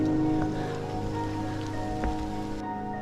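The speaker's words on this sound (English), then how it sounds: "Unfortunately, it's raining, but life goes on." Rain falling steadily on a countryside road in Kanchanaburi province, Thailand, an even hiss that stays loud and constant throughout, with a few sharper drop impacts and a low engine-like hum underneath.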